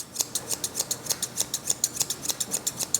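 Grooming scissors snip through a Maltese dog's fur in quick, even strokes, a steady run of about twenty crisp, close metallic clicks with no talking.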